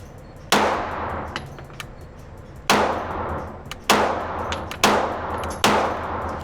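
Five loud, sharp pistol shots from a Canik Rival SFx fitted with an open-emitter dot optic, fired at an uneven pace with ringing clangs of steel targets and no talking.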